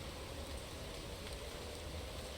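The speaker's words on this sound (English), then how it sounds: "what I am most interested in at this point is the rain. How long does this weather last?" Steady rain hiss during a race in the Motorsport Manager racing game, a dense continuous wash of noise with no talk.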